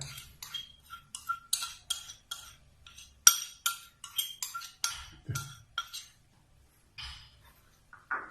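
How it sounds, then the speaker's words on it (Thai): Crispy frying batter flour is mixed with water in a bowl, heard as a quick run of close, bright clinks from a utensil tapping and scraping the bowl in uneven bursts, then slowing to a few sparse taps. "เราก็นำแป้งทอดกรอบนะครับ มา ละลายน้ำนะครับ"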